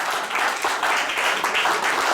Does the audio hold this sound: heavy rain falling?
no